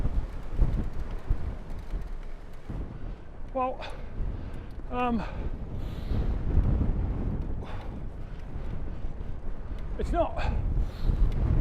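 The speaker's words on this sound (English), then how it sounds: "Oh, it's certainly a gale blowing." Gale-force wind buffets the microphone outdoors in a continuous roaring rush with gusty swells, while someone speaks briefly and a dog barks in the distance.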